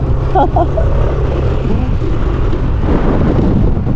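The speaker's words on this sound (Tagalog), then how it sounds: "So asahan nyo malakas ang hangin." Loud, constant wind roars and rumbles across the microphone throughout, with a brief faint voice near the start.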